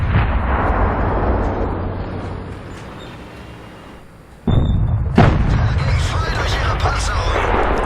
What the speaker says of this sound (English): Jagdpanzer takes a couple of big hits.